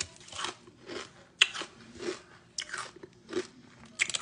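Close crunchy bites into a fried chicken ice cream snack, several sharp crackling chomps and chewing spread unevenly across the moment with no talking.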